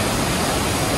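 Broad, steady roar of a large waterfall at Saeedabad in Bursa, heard up close and loud with no pauses, a dense wash of falling water and no voices.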